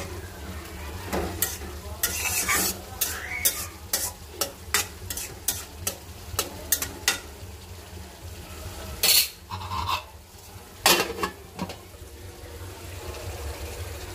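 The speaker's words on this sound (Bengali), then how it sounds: "লাল শাক ভাজি বসে দিচ্ছি।" Red amaranth greens fry in a pan with a steady sizzle, while a spatula scrapes and stirs in repeated close strokes throughout.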